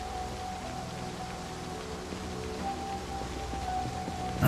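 Steady rain falls without a break in the Project Zomboid video game: an even, soft hiss of drops on surfaces, with no talk over it.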